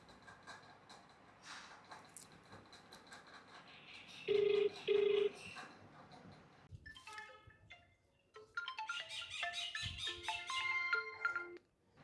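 Telephone tones on a call to a busy number: two short steady beeps near the middle, surrounded by scattered clicks, chirps and electronic warbling, all faint and quiet overall.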